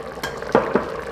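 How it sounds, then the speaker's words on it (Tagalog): A spoon stirring drained potatoes into a pot of beef shank stew with tomato sauce, giving a few scraping clanks against the pot over a faint steady simmer. "Haluin lang."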